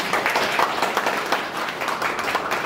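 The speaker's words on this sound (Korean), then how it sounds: "어려운 발표를 해주신 정 총리님께 다시 한번 큰 박수 부탁드리겠습니다." Applause for Prime Minister Chung fills a hall at a formal Korean event, a dense, steady crowd clapping that holds at an even level throughout.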